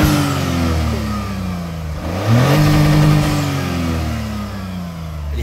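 A sporty Lexus performance car, fitted with twin exhaust tips, revs its engine up and down at close range in Japan, the loud rising and falling roar heard alone with no talk.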